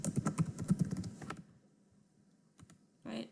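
Computer keyboard typing in short close bursts, a quick cluster of keystrokes followed by a pause and a couple more taps.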